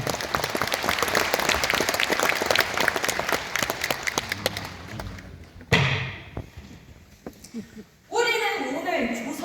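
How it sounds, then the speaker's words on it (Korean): Warm audience applause at a March 1st Independence Movement Day ceremony in Incheon's arts center hall, sustained clapping that fades out, followed by a thud and then a lone voice speaking. "여러분, 뜨거운 박수로 맞아주시기 바랍니다."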